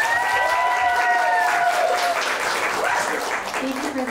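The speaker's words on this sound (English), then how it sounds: "Let's give them another round of applause." An indoor audience at a book event claps and cheers in a short burst of applause while a voice speaks over the start.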